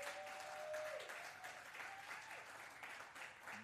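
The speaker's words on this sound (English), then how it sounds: "a round of applause to the gentleman he just spoke about, Ben Murray Bruce" A crowd at a trade-fair music showcase applauds in a broad, steady wash of clapping, heard fairly distant and quiet, with a faint sustained tone running briefly underneath.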